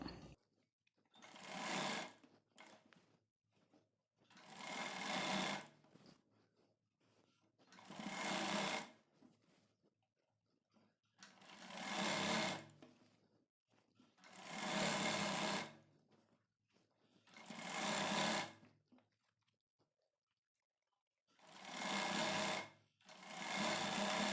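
A sewing machine stitches a blouse in repeated bursts of a few seconds each. The runs are separated by short pauses and sound close and steady, with no talking.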